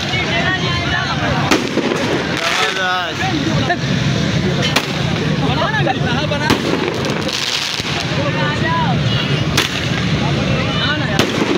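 Fireworks crackle and pop continuously during an Independence Day (14 August) celebration, dense bursts and bangs running throughout with people talking over them.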